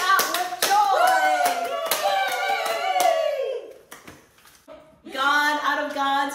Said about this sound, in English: Celebrate, clap your hands, and shout with joy!